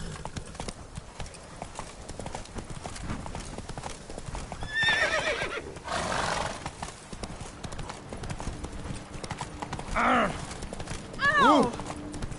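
A horse in The Witcher 3 video game clip-clops along steadily and lets out a couple of distinct neighs and whinnies. Someone talks over the game sounds.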